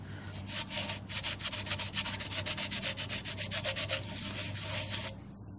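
Rhythmic rubbing strokes as Lime Away is wiped over rusty chrome on a Honda CT70, a quick series of close, faint scrubbing passes without talk.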